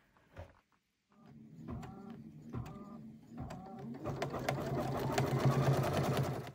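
A Brother Luminaire sewing machine embroiders a quilt block with steady mechanical stitching that starts after a brief pause, its rhythmic needle clatter carrying on unbroken and getting slightly louder over several seconds.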